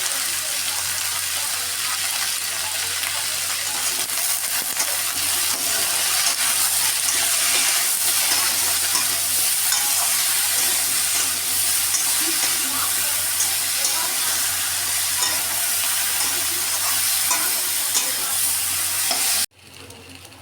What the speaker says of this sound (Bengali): একটু হলুদ গুঁড়ো দিয়ে আমি ভালো করে ভেজে এটাকে তুলে নেব